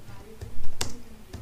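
Python code being typed on a computer keyboard in a code editor, a few separate light key clicks spaced irregularly over a quiet background.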